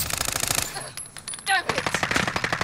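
Rapid machine gun fire in a shooter video game, sharp repeated bursts at the start and again toward the end with a brief lull between, close and loud, with voices talking in the background.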